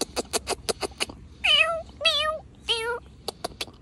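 A cat meows three times in a row, close and clear, between bursts of clicking or tapping sounds, with a voice briefly present.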